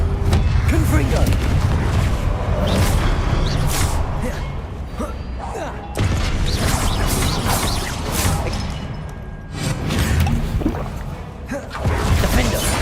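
Repeated Confringo blasting-spell explosions in Hogwarts Legacy, heavy booming impacts and crashes in a dense, loud combat mix, several bursts spread across the stretch with whooshes and debris, and voices heard amid the fighting.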